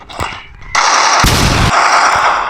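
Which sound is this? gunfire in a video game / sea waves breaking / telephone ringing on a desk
gunfire in a video game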